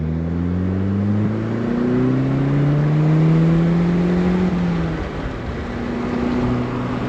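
An Audi A4 (2009-2016) fitted with a new S-Type cat-back exhaust revs up and down several times, a smooth rising and falling engine tone that stays fairly subdued, close by and alone.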